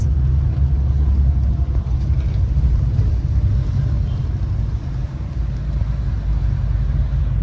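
A car moving along a road, heard from inside the cabin as a steady, loud low rumble with faint wind noise throughout.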